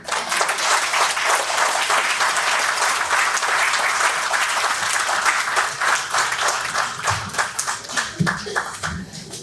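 A big round of applause for performers at a Lafayette Underground Railroad event, loud dense clapping from a crowd sustained for several seconds, thinning into scattered claps near the end.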